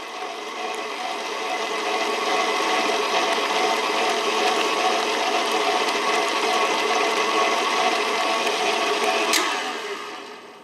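Electric mixer whirring steadily through chocolate mascarpone cupcake batter in a bowl, a continuous close motor drone running unbroken for about ten seconds before winding down.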